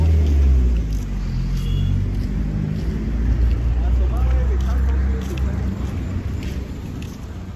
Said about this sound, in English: Look at all these cars, man. Look at all these. Look at this traffic.